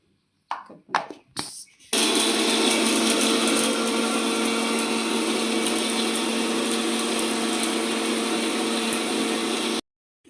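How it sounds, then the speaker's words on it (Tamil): A kitchen blender grinds tomatoes, black peppercorns, poppy seeds, a little ginger and four garlic cloves into a smooth paste, a loud continuous whirring roar for about eight seconds after a few brief knocks, then cutting off abruptly. "2 தக்காளி, கொஞ்சம் குருமிளகு, கசகசா, கொஞ்சோண்டு இஞ்சி, 4 பல் பூண்டு, இதை போட்டு நம்ம இப்போ வலுவலுன்னு அரைச்சிக்கலாம்."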